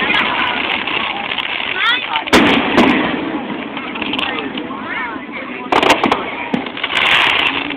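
Fireworks at a Melbourne, Florida display burst overhead in repeated loud booms and crackles, with whistling rising shells between blasts, while spectators talk and exclaim close by.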